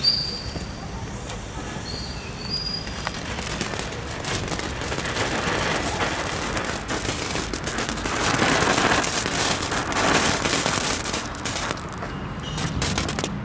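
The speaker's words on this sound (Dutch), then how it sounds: "Dat was het vuurwerk van de Albert Heijn." Small fountain fireworks from an Albert Heijn supermarket pack burning, a sustained loud hissing and crackling spray with rapid popping that swells and ebbs over about thirteen seconds, with voices faintly underneath.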